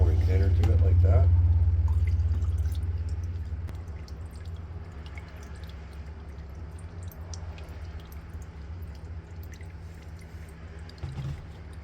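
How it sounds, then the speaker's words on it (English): Thinner poured through a paint spray gun head during rust repair on a 2018 Ford Escape, a steady close liquid gurgle that fades after a few seconds into low background hum. "Rinse any schmutz out of the gun head just by pouring thinner through it like that."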